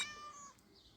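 A short, high meow from a cat, close and clear, fading out within half a second over a quiet background.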